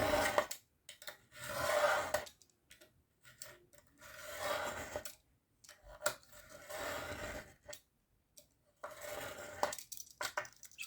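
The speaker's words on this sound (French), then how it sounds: "je me place et je coupe au cutter, tout simplement" Sheets of scrapbooking paper being sliced with a craft knife for album pockets, giving repeated close raspy scraping strokes in bursts separated by brief pauses.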